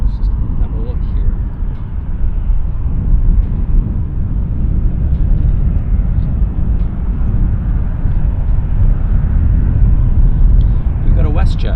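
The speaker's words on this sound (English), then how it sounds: "So it's a WestJet Boeing taxiing." WestJet Boeing jet taxiing at Vancouver airport, heard as a steady, distant engine rumble and hum that holds evenly throughout, with a voice talking over it.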